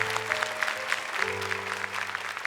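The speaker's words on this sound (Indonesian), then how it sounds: "Tepuk tangan untuk Firda." A studio audience at the Indonesian Quran-memorization TV competition Hafiz Indonesia 2018 breaks into steady rhythmic clapping, sharp claps landing in even beats over a sustained tonal musical backing.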